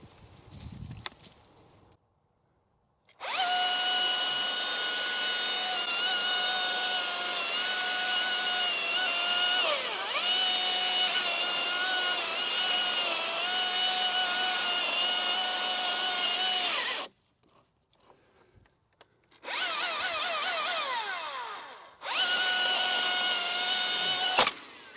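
A Husqvarna 540i XP battery chainsaw cuts firewood to length, a steady high whine running for about fourteen seconds, stopping, then returning in two shorter bursts with faint handling noise in the gaps.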